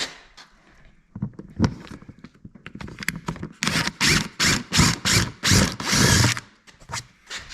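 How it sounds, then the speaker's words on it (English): A power drill whirs in short bursts, then bores steadily in a series of loud, close pulses while fitting fender flares to a 2026 Can-Am Defender HD11, with faint clicks and handling noise before it. "there's a little hole there to drill, so I might as well get that out of the way"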